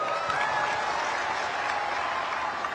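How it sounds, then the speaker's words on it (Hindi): Crowd applause at a political rally in Darrang, Assam, a steady dense clapping that fills the whole moment at even loudness, with no voices rising above it. "हो जाए ताली आज"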